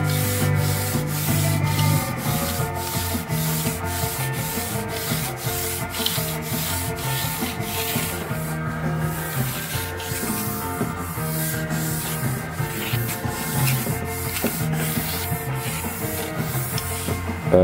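A Fender Jazzmaster guitar neck is sanded by hand, with regular back-and-forth rubbing strokes repeating steadily and close for nearly twenty seconds over a faint tonal background, no speech.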